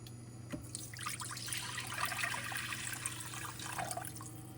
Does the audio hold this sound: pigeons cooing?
no